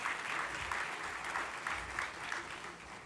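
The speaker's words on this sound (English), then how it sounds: "Let's give them a big round of applause and hear what's happening in the midstream." An audience at an oil and gas industry conference applauds panelists taking the stage; continuous, fairly distant clapping fills the room at a steady level.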